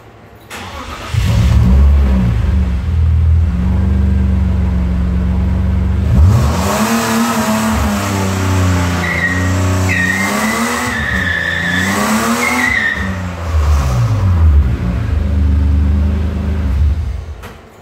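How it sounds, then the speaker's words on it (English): A car accelerates and then brakes hard during a front brake test. The engine roars loudly and close up, with revs climbing and falling across several pulls and a brief tyre squeal in the middle. "what we're going to do now is a quick test to see if the front brakes are braking enough."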